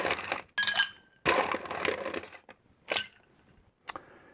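Ice cubes rattle and clink into a glass mixing vessel while a stirred cocktail is prepared, several separate bright bursts of tumbling ice, close and crisp, with short quiet gaps between scoops.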